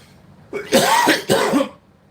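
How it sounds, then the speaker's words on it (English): Two quick, harsh coughs close to the microphone, the second following right after the first, then quiet. "I'm coughing."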